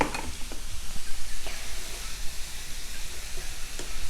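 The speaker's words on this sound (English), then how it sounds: "Get all those seasonings mixed around well." Seasonings including dried basil and parsley being stirred into a potato and egg breakfast skillet, loud hissing sizzle with scraping of a utensil against the pan and occasional sharp taps.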